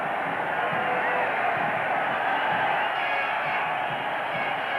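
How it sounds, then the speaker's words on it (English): A large football stadium crowd at an Argentina vs Uruguay match roars in a continuous, dense wash of noise throughout, steady and broad, with no single cheer standing out. "The crowd trying to encourage these teams into a little more action"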